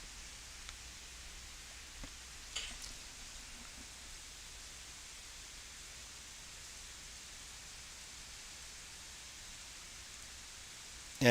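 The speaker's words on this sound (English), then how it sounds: "Just raining at the moment, this part." Rain falls outside during a typhoon in Japan, a steady, even hiss of drops that carries on throughout with a couple of faint knocks and no voices.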